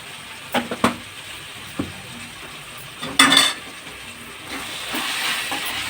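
Washed mutton pieces go into a pan of fried onions, with sharp metal clanks of a spoon against the pan followed by a soft, building sizzle and hiss of frying.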